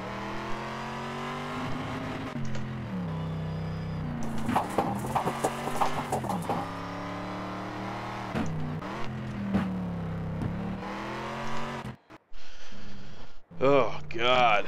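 Engine of a heavy race car in Need for Speed Shift 2 Unleashed, a steady loud drone with harmonic whine rising and falling through revs and gear shifts, briefly cutting out near the end.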